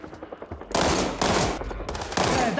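Two-round burst fire from an AN-94-style rifle in the video game World War 3, firing 5.45 rounds at 1800 RPM, with three loud rapid bursts after a quieter start, each one a sharp cracking double report with a trailing echo.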